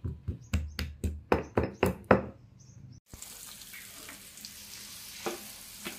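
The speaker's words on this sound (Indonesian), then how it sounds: "Jadi bumbunya ditumis sampai warnanya agak coklat-coklat sedikit." Ground spice paste of pounded white pepper and aromatics starts frying in a pan: a run of about eight rhythmic knocks and stirring clacks, then a steady close sizzle after a brief cut.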